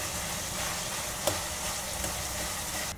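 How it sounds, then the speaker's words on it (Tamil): Tomatoes fry in hot oil for a Chettinad fish gravy, giving a steady, close sizzle that holds through the whole clip with a couple of faint clicks. "இந்த எண்ணெயிலே நல்லா வேகுது பாருங்கள்."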